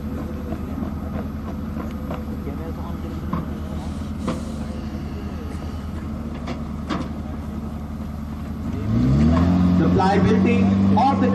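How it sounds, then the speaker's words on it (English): An FH77 howitzer moving on its auxiliary power unit, its low engine rumble swelling noticeably near the end while someone narrates over it. "The gun is now being moved away to its firing platform to demonstrate its firing."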